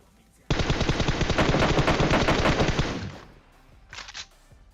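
Automatic gunfire in the PUBG Mobile battle royale game: a loud, close, continuous rapid-fire burst lasting nearly three seconds, then a brief, quieter burst shortly after.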